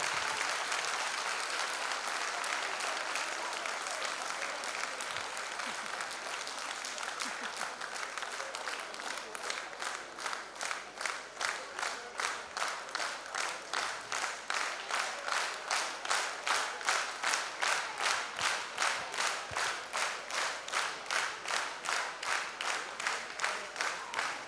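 A large audience applauds at a dance studio performance, sustained clapping that starts as a dense wash and settles into loud, steady rhythmic clapping in unison.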